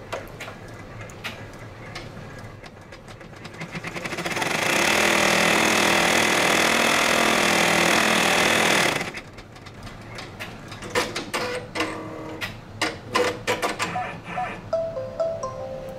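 A multi-needle embroidery machine stitches a quilt block in a sustained, loud mechanical whir lasting about four seconds, followed by a run of quick ticks and clicks as it slows.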